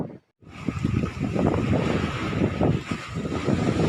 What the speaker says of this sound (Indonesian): cuaca hari ini sangat cerah dan berangin. Hal itu membuat nelayan di desa ini tidak bisa mencari ikan dikarenakan ombak yang terlalu besar